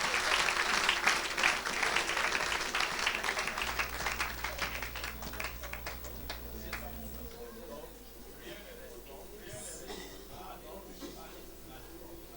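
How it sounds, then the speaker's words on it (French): A church congregation bursts into loud applause and cheering for Jesus, thick clapping that gradually tapers off into a quieter murmur with scattered claps. "Acclame pour Jésus."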